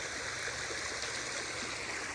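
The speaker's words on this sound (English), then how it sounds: "this really calm, peaceful area of water that never stops and overflows, and then creates the stream going down" Water running steadily down a landscaped garden stream from an overflowing pond, a soft continuous trickle and babble heard alone at low level.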